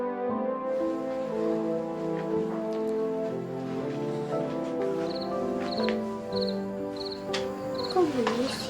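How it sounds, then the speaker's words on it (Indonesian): Faint insect chirps repeat in short, evenly spaced bursts over a soft, steady ambient bed, distant and quiet in a calm indoor scene. "Kok bunyi sih? Kayak jangkrik."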